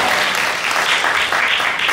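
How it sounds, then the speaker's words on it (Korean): Wedding guests applaud warmly at a ceremony in a wedding hall, a dense, steady wash of many hands clapping close by, with no voices over it. "여러분 다시 한 번 따뜻한 박수 보내주시기 바랍니다"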